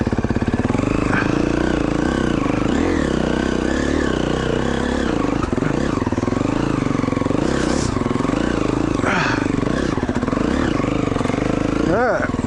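An enduro dirt bike revs and bogs on a woodland trail, roosting with bursts of engine roar that sputter toward a stall, heard close and loud with a rider talking over it.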